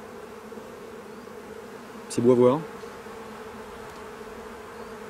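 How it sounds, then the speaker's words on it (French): Honeybees at an opened spring hive give a steady, faint buzzing hum throughout, with a short burst of a voice speaking briefly in the middle. "On voit toujours les abeilles frétiller, faire leur danse."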